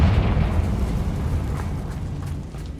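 A Confringo fire spell blows up in the Hogwarts Legacy game during coastal exploration, a loud rumbling explosion at the start that slowly tapers into a dense, fading roar.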